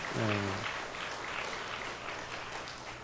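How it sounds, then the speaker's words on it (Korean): An audience applauding, a soft, steady wash of clapping heard from a distance after a short sung or spoken tone at the start. "한번 박수 하셔야 되겠죠"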